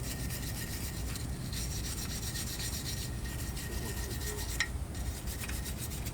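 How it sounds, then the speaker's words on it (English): A small brush scrubs a BMW F30 wheel hub with a continuous close rasping and rubbing, steady and fairly loud throughout with no talk. "I'm going to use this little brush just to go ahead and get off just minor stuff"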